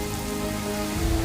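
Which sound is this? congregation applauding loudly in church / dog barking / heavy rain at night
heavy rain at night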